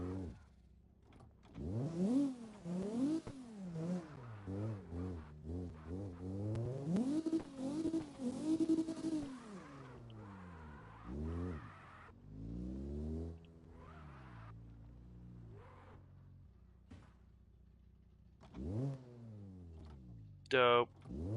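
A car in CarX Drift Racing drifting as its engine revs up and down in sweeping waves, with tire noise and occasional sharp bursts, while people talk over it.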